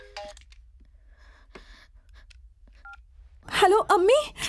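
A mobile phone rings with an incoming call from a mother, sparse electronic tones and beeps heard faintly in a quiet room, followed by louder wavering voices near the end.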